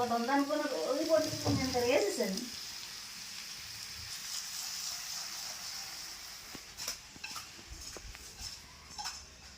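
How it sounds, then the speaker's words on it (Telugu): Fish pieces coated in masala hit a hot pan for a fish iguru curry and fry with a steady, moderately loud hiss and sizzle, after a voice talks briefly at the start. "ఇప్పుడు చేపలు వేసుకుందండి మసాలా పట్టించిన చేపలు కూడా ఇద్దరు వేసుకుందాం"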